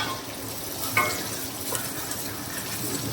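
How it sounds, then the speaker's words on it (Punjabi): Chopped onions, three to four of them cut neither coarse nor fine, fry in hot oil in a pan for a potato-eggplant curry, giving a steady low sizzle with a few stirring scrapes and no talk. "ਹੁਣ ਆਪਾਂ ਇਹਦੇ ਵਿੱਚ ਪਾ ਦਾਂਗੇ ਇਹ ਸਾਰੇ ਪਿਆਜ਼"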